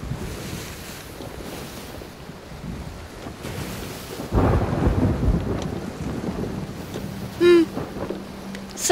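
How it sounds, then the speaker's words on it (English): Stormy seas in the pirate game Sea of Thieves: a steady wash of wind, rain and surf with a heavy rumbling surge partway through, like nearby thunder, and a brief creak or ringing tone near the end. "I'm in the storm."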